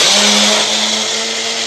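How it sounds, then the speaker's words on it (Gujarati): A kitchen blender grinds ingredients for potato dabda bhajiya batter with a loud, steady motor whir and a sustained hum, close and continuous with no talking. "હવે આપણે પીસી લઈશું"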